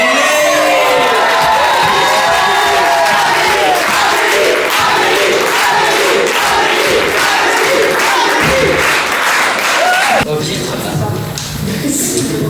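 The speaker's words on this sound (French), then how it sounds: "j'aimerais quand même qu'on applaudisse ton adjointe éducative" A school auditorium audience at a Paris middle-school eloquence contest cheers, whoops and shouts loudly, a dense crowd roar with children's voices that continues for about ten seconds before dropping away abruptly.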